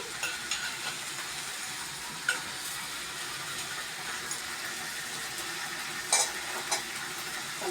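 Onion, tomato and curry leaf paste frying and sizzling in oil in a village kitchen, a steady hiss with occasional stirring scrapes and pops, close and continuous, no talking.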